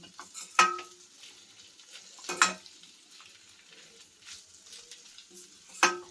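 Masala fries in a pan on low flame, a faint soft sizzle under a few sharp ladle scrapes and clinks against the pan, spaced a couple of seconds apart.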